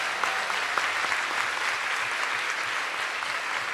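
A graduation ceremony audience applauds steadily and loudly for nearly four seconds, a dense, even wash of many hands clapping with no gaps.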